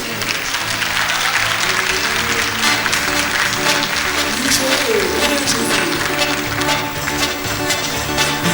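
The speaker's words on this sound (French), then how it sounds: "on applaudit le Seigneur" Loud, steady applause from a church congregation during worship, continuous throughout, with music and a faint voice underneath.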